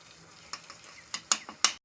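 Banana flower being fried and stirred in a pan with mustard paste and a little ghee: a soft steady sizzle broken by four sharp scraping stir strokes, close and fairly quiet.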